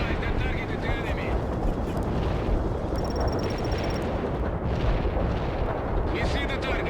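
Artillery fire in the video game World in Conflict, with dense, continuous booming barrages and rumbling explosions filling the scene, loud and close, with radio voices talking over the battle.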